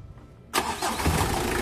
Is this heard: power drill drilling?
no